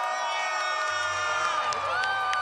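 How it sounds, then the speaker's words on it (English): Packed arena crowd at a Monster Jam event in Sacramento's Golden One Center, a dense continuous roar of cheering and whistling with high tonal whoops swelling near the end. "Keep that applause going."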